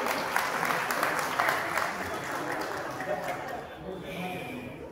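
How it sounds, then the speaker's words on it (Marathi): An audience at a school alumni reunion claps loudly and continuously, a dense wash of applause that gradually eases off, with a voice talking underneath. "सगळ्यांनी जोरदार टाळ्या वाजवायच्या आहेत."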